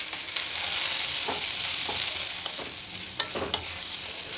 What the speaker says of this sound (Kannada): ಈರುಳ್ಳಿ ಚೆನ್ನಾಗಿ ಕೆಂಪಾಗೋವರೆಗೂ ಹುರ್ಕೊಳ್ಬೇಕು